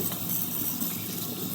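Water splashes and runs steadily while waakye leaves are washed for a Ghanaian waakye dish. The sound is a continuous, fairly faint rush that stops abruptly at the end.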